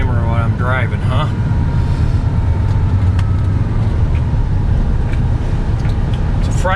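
A car drives along a snowy Iowa road on a winter morning, its steady low engine and road rumble filling the cabin continuously, with faint background voices and tones over it.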